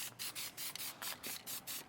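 Contact glue is sprayed from a can onto the back of a pedalboard case before covering it with vinyl tolex, a series of short hissing bursts in quick, even rhythm, close and faint.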